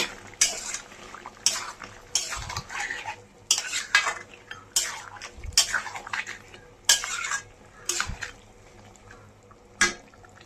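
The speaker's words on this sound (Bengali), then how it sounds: "এখন টক দইটা দিয়ে দিচ্ছি। এখন ভালো করে নাড়িয়ে চেড়িয়ে নিচ্ছি।" A spoon scrapes and clanks around a pot while chicken is stirred with yogurt, repeated bursts of close metallic scraping in an uneven rhythm with soft wet sizzling between strokes.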